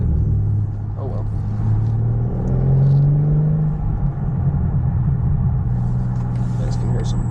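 A BMW M4 Competition on the road gives a low exhaust rumble and soft burbling pops from inside the car, steady engine drone swelling slightly midway and carrying through to the end.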